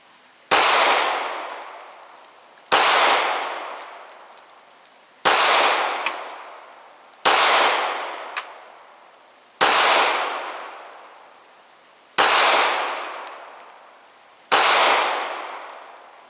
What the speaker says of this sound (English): So here we go. Sig P238 on the left.